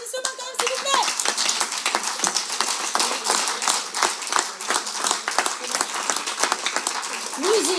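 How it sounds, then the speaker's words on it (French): Audience clapping at a live stage show performance, a dense, steady burst of applause filling the room, with a few scattered voices and a voice mixed in. "pour accompagner Colette, des applaudissements quand même, s'il vous plaît."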